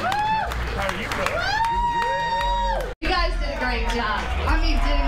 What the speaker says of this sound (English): Everybody give yourselves and the partners or another round of applause.